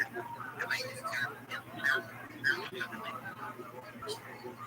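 A dog gives short yips and whimpers close by, a string of brief high-pitched cries spaced unevenly over low background noise.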